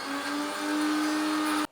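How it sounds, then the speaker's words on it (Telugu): A kitchen mixer grinder blends a wet paste of washed coriander and mint leaves in a jar, a loud, steady high whirring drone that runs without a break before cutting off sharply at the end. "ఇప్పుడు కొత్తిమీర పుదీనా అంతా కడిగి మనము మిక్సీ పట్టుకుందామండి పానీకి."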